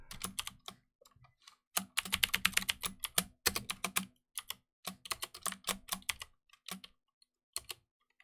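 Rapid typing on a computer keyboard with a Norwegian layout, keys clattering in quick bursts separated by short pauses, close and clear, with no talking.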